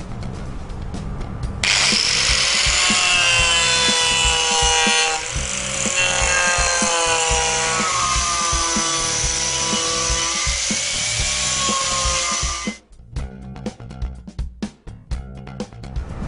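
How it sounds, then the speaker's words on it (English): An Arbortech Turbo Plane power planer whines loudly as it chamfers timber for about eleven seconds, its pitch wavering with the pressure, then stops, leaving scattered knocks and rustling. "the Arbortech Turbo Plane is perfect for doing freehand beveling or chamfering of wood"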